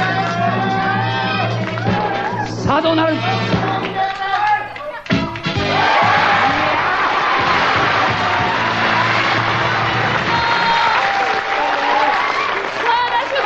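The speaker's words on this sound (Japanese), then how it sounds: "聞いてください、この場内の声。" Loud applause and crowd voices fill a race venue at a Funnys Grand Prix series round. A commentator's voice rides over the continuous cheering and clapping, with a short dip midway before the roar surges back.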